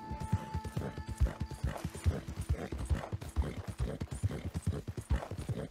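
Horse hooves clip-clopping at a steady trot in Red Dead Redemption 2, a rhythmic run of close, dull thuds with a faint whinny-like tone and low background music.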